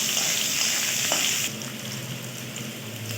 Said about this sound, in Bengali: এবার এটিকে ভালোভাবে নাড়তে থাক